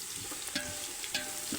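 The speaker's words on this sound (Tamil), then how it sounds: "இது கூட கேசரி பவுடர் போட்டு நல்லா மிக்ஸ் பண்ணி, நல்லா சுற்றி மிக்ஸ் பண்ணு" Food mixed with kesari powder is stirred in a frying pan, with several short scraping strokes over a continuous low sizzle, up close and fairly quiet.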